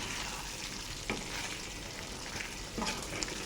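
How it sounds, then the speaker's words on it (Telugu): Chicken masala curry sizzling and frying in a pan while being stirred, a steady crackling hiss with a few soft scraping knocks from the spoon, close and alone. "ఇప్పుడు దీన్ని మనం ఒకసారి ఫైనల్గా కలిపేసుకుందాం"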